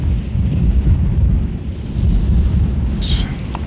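Artillery guns firing in the Arma 3 military game, heard as a deep continuous booming rumble that swells and rolls like distant thunder, loud and sustained for a few seconds.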